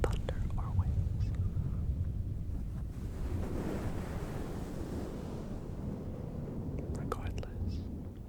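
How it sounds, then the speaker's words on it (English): Waves wash in at a beach in a continuous, dense roar that swells and eases, close and fairly loud, with soft wind-like hiss and faint whispering and small taps laid over it. "waves at the beach"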